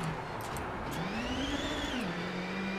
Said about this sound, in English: Man, I've been revving the absolute arse of it.